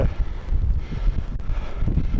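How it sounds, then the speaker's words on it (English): Strong wind buffets the microphone on the Seven Sisters clifftop, making loud, gusty low rumbles that rise and fall continuously with no voices. "It's going to get very windy up here."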